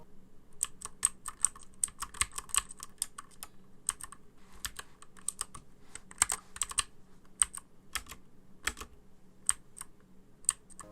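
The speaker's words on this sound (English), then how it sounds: "the typing experience is great on this keyboard. I love typing on this keyboard." Steady typing on a Keychron K2 V2 mechanical keyboard with blue switches, crisp clicky keystrokes in irregular quick runs, close and fairly quiet, with no voices.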